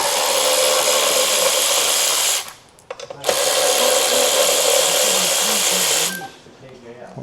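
A power tool, likely an impact driver, zips bolts out of a new motorcycle with two sustained loud whirring bursts separated by a short pause, close up, while someone speaks faintly.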